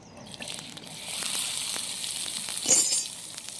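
Onion frying in oil in a pan for usal, a village-style sprouted-bean curry cooked over a home stove, sizzling in a steady, moderately close crackle with a brief louder burst of hiss and spatter near the end.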